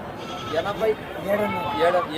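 Goats bleat several times in short, close calls at the Pileru goat and sheep market, rising over a steady murmur of crowd voices.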